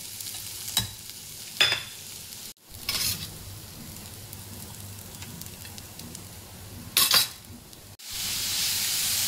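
Grated coconut and jaggery stirred in two spoons of ghee in a pan while making patolya, giving a soft steady sizzle with a few brief scraping sweeps of the spoon, close by and with no talk.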